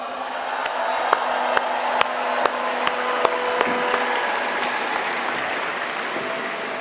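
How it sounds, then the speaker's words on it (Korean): Sustained applause from a large crowd fills a party convention hall, a dense steady wash of clapping with a few sharper individual claps standing out, loud and continuous throughout. "큰 박수 부탁드립니다."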